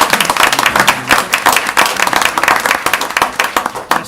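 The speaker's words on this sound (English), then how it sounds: "So let's give them a round of applause." A round of applause at a school district board meeting honoring a back-to-back state champion high school golf team: dense, steady clapping from a roomful of hands, loud and close throughout.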